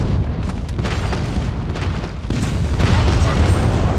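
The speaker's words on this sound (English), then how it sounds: "Enemy airstrike incoming." Airstrike explosions in a multiplayer hardpoint match of a video game, heard as a continuous heavy rumble of booms with a louder surge partway through, dense and loud, with faint voices.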